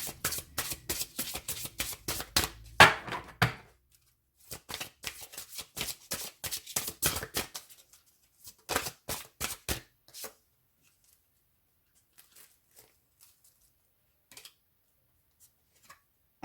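Angel oracle cards are shuffled in quick riffling bursts of crisp taps, with several bouts early on, then sparse faint clicks as the deck settles.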